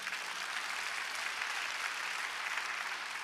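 Sustained clapping from a Korean church congregation during a sermon, a steady, even wash of many hands at a fairly low, distant level.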